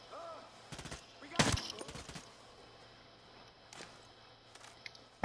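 Gunshots from the video game Ghost Recon Breakpoint: a few sharp cracks, one louder burst near the middle, with scattered fainter shots over a quiet low background.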